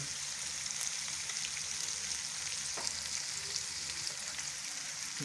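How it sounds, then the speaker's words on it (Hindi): Spices, salt and black pepper powder sizzle steadily in hot oil for daal palak, a close, even frying hiss with occasional stirring scrapes and no talk. "अब इन तमाम चीज़ों को अच्छी तरह से भून लेंगे"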